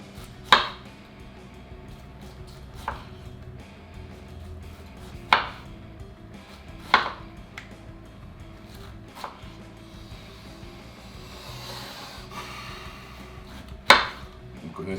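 Knife slicing roasted pineapple into half-centimetre rounds on a board, a series of sharp, close thuds spaced a second or more apart over a quiet background.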